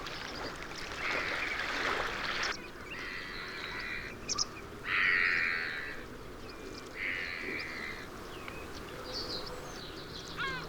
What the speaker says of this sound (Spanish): Patos, abocetas, cigüeñuelas o garzas ocupan todos y cada uno de los rincones del parque